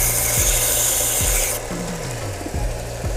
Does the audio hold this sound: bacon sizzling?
no